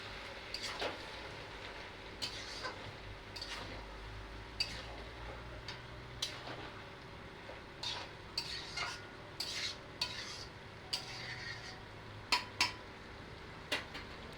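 A metal pot lid is repeatedly set down and lifted off a cooking pot of kochu stems on the stove, producing a string of sharp clinks and clatters at irregular intervals over a low simmering hum.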